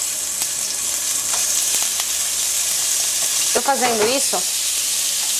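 Bacon fries in a little hot oil in a skillet for a feijoada, giving a steady dense sizzle throughout with light scraping knocks, and a voice speaks briefly near the end.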